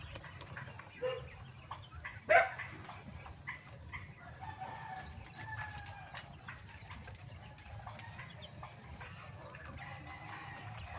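Backyard quails call faintly with scattered chirps and clucks, one sharper call standing out near the start over a low, steady background.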